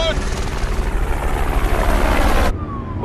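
A helicopter thunders close overhead in a dramatic film scene, a dense broadband rotor roar that holds steady for over two seconds and then drops off sharply into a quieter engine whine.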